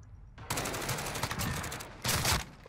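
Automatic gunfire in Call of Duty Modern Warfare during a bomb-defusal round: a loud sustained burst after a quiet start, then a second short burst near the end, close and dense.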